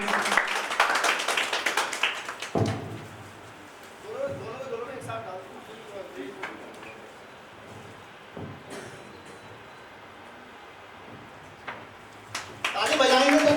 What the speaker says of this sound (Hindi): आप सभी से अनुरोध है कि ताली बजाकर स्वागत करें।